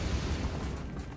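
Confringo fire spell cast in Hogwarts Legacy on PS5, a dense explosive burst with rumbling low end that fades over about a second, loud and alone.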